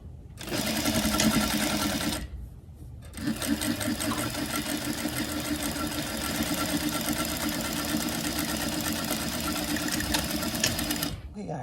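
A sewing machine sewing down a lap zipper, a close, steady, rattling whir that runs for about two seconds, pauses briefly, then continues unbroken for most of the stretch.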